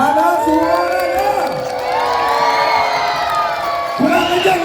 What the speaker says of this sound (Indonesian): coba dong tepuk tangan dan teriakannya yang meriah dulu